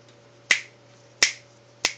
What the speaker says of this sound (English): If I stop snapping, it'll do it on its own